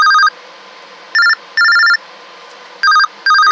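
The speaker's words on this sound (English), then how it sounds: "Oh, my phone's ringing." A phone rings loudly and close by in a radio workshop, its electronic bell tone sounding in short repeated bursts with brief gaps between them, with no talk over it.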